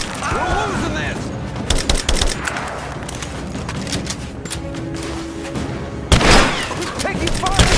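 Bursts of gunfire crackle through a combat scene in the Rise of the Tomb Raider video game, rapid volleys and single shots stacked over a loud battle din, with voices shouting between the shots.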